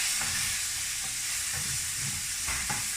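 Garlic sizzling in hot oil in a pan, a steady loud hiss with occasional soft stirring scrapes, continuous and close.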